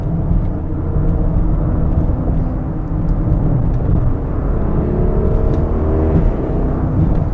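A 2023 Audi RS Q8 drives hard through a series of turns, its engine note a steady loud drone with shifting harmonic pitch as it rises and falls, heard from inside the cabin with no talk.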